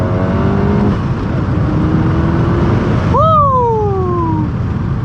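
An upgraded turbocharged Volkswagen GTI of about 400 horsepower pulls hard in second gear on a canyon road, heard through an open window. Its engine note drones steadily, then swings into a rising, whining surge.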